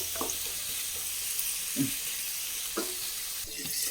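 Thinly sliced onion frying in coconut oil for fish biryani, a soft continuous sizzle with a few spaced spatula scrapes and taps against the pan.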